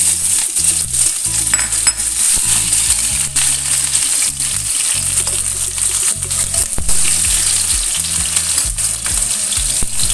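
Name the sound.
shallots, garlic and chili sizzling while frying in a pan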